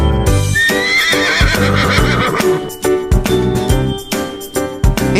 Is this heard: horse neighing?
yes